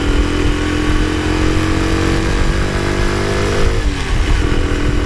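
Honda C110X Super Cub semi-automatic motorcycle ridden on the road, steady loud close engine drone with a brief dip partway as it shifts gears, no talking.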